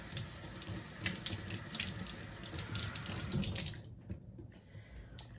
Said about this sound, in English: I'm going to go ahead and get these rinsed off with some fresh water